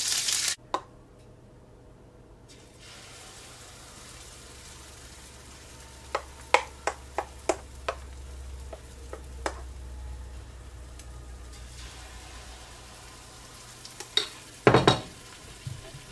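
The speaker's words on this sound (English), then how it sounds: "next we're gonna get a ladle and ladle these onto the pan, onto the hot skillet" Pancake batter ladled into lard on a hot skillet, a faint steady sizzle with scattered clicks and clinks of a ladle and pan, quiet with no talking.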